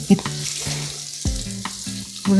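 Onion and carrot sautéing in a pot, a bright sizzle close by with tonal hum and clinks of stirring running beneath it, and no one speaking.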